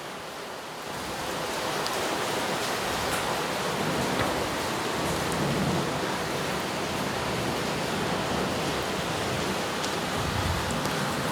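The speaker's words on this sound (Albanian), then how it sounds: "Dalim pak nga krau tjetër që të shohim si përplaset shiu ndritare." Heavy rain from a daily village storm beats against a window in a dense, steady hiss that swells in the first second and then holds constant, with no voices.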